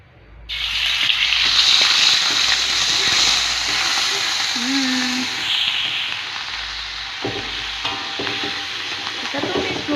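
Spice paste for chicken curry sautés in a pan, giving a loud, close, continuous sizzle with scraping stirs and a few clinks, steady for most of the stretch.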